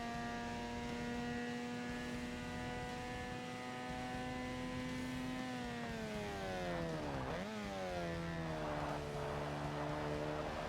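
A rotary-engined car revs in Forza Motorsport, a steady buzzing drone that sags in pitch, then swoops down and back up as the revs change, loud and close with no talk.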